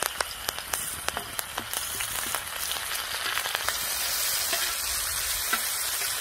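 Oil in an iron pan sizzling with cumin, chopped tomato and curry leaves for an okra curry, sharp close crackles and pops at first settling into a steady loud frying hiss.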